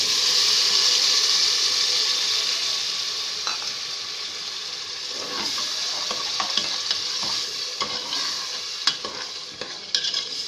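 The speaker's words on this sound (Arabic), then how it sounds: "يعني هقلبها بقى تقليبه كده البهارات كده مع الصلصه واضيف عليها الطماطم" Onion frying with spices and tomato sauce sizzles loudly in a pan as it is stirred. Scraping strokes and soft clinks break through the steady hiss, which eases slightly toward the end.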